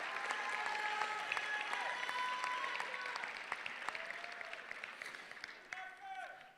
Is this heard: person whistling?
no